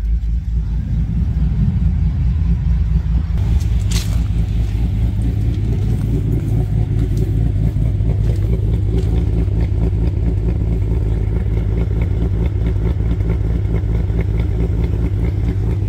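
A 6.4 HEMI V8 in a Ram 2500 pickup, fitted with an FRP Hellfire 2.0 cam, idles with a loping, choppy rumble, steady and loud up close, its uneven beat pulsing continuously.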